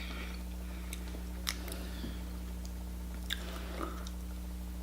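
Creamy shrimp sushi roll with avocado, cucumber, mayo and teriyaki sauce being chewed close to the mic, soft wet bites and a few faint crunches over a low steady hum.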